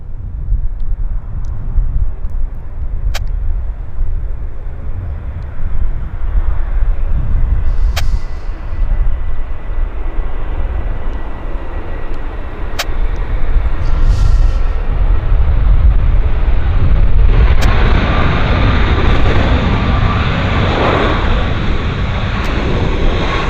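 A United airliner from San Francisco at Vancouver airport, heard from a distance as a broad, steady jet roar that swells slightly midway and stays loud throughout, with a few faint clicks over it.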